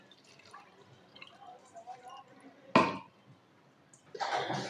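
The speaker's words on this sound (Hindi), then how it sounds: "½ लीटर जितना मैंने इसमें दूध शामिल किया है।" About half a litre of milk is poured onto grated carrots for gajar ka halwa, heard as a brief splash and then a steady wet pour near the end, after soft talk and quiet drips.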